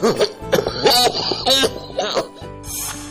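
A man with weak bronchial health coughing at home, a series of harsh, close coughs and throat-clearing sounds in uneven bursts.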